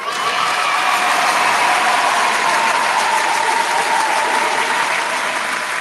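Continuous loud applause fills a hip-hop mixshow studio, forming a dense, even wash of clapping that never lets up.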